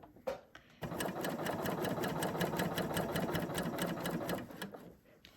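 A sewing machine runs steadily, stitching a chainstitch across a piece of fabric, a continuous even mechanical whirr lasting several seconds after a brief start, then slowing and stopping.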